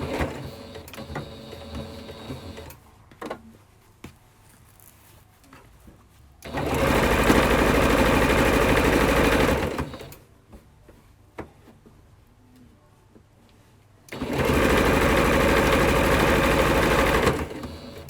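Sewing machine stitching through a seam in two fast, loud, steady bursts of a few seconds each, separated by quieter handling clicks and rustles.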